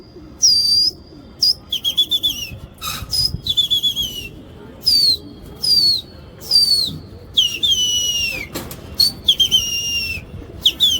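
Pigeons in a Delhi loft, including red checker birds of a Hyderabad breed, give repeated close chirps and whistles with flapping wings, in bursts across the clip.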